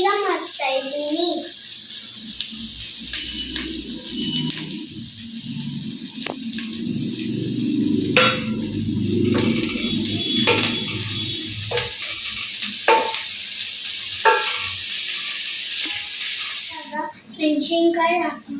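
Small onions and capsicum frying in a pan for vegetable upma, a soft continuous sizzle with spatula scrapes and clinks beneath someone talking, plus a voice at moments.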